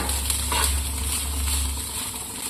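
Egg rice sautéing in a pan, leftover rice and egg frying with a steady, fairly close sizzle and occasional stirring scrapes over continuous background hum.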